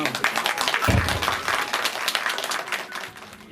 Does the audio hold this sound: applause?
yes